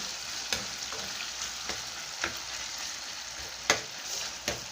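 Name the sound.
tomato frying in a pan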